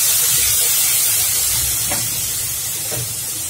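Chopped onion frying in hot oil in a pan for tilapia jhal gives a continuous close sizzle and hiss, with faint stirring scrapes now and then.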